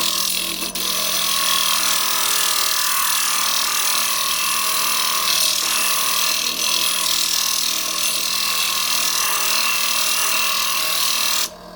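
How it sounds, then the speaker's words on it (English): Glass grinder shaping a stained glass circle down to its score line, a steady loud whirring grind with wet abrasive hiss running nearly continuously throughout. "with the score side facing you, we're going to grind down to the score line"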